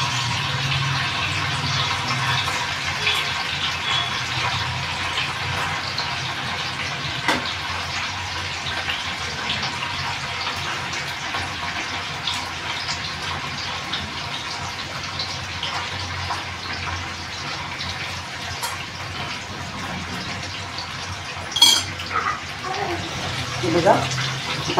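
Paneer cubes dropped into oil heated over a medium-to-high gas flame give a steady, close sizzle that runs throughout, with a few sharper crackling bursts near the end.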